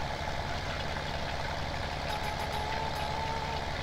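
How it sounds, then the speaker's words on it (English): Tractor engine running in Farming Simulator 17, a steady low idle-like rumble with mechanical drone continuing throughout, moderately loud with no talk over it. "I can see another tractor rolling over there."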